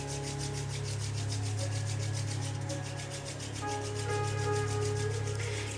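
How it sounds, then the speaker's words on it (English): Skin on skin as the soles of the feet and the palms of the hands rub together at once during a yin yoga session, a soft, steady, continuous brushing that runs close and even with no talk. "rubbing simultaneously the soles of the feet together and the palms of the hands together"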